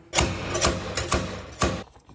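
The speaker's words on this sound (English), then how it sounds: "I tried the slide hammer." A slide hammer strikes a BMW wheel knuckle five times in an uneven rhythm. Each sharp metallic impact is loud and close and rings briefly, with no voices.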